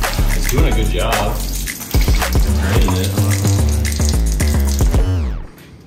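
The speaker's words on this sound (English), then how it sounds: "Drain your fuel tank right here" Old, bad gasoline draining from the fuel tank of a Honda quad that had been sunk, pouring in a loud, continuous splashing gush close by, then tapering off abruptly at the end.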